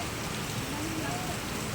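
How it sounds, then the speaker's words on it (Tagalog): Heavy rain pours down in Olongapo amid street flooding, a loud, unbroken hiss of drops hitting surfaces that fills the scene evenly from start to finish. "nakikita po natin ang malalakas na ulan mga kaubayan"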